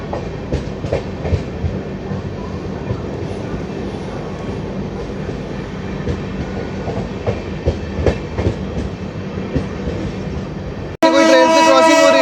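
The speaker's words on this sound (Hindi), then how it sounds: "कोई ट्रेन से क्रॉसिंग हो रही है। ताज एक्सप्रेस। गतिमान एक्सप्रेस।" An Indian express train, the Gatimaan Express, rushes past on an adjacent track with a continuous loud roar and rail clatter heard from aboard another moving train, ending in a sudden sharp horn blast.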